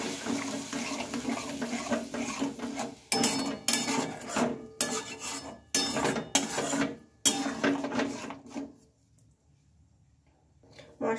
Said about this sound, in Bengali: জল দিয়ে একটু ভালোভাবে নেড়ে চেড়ে নেব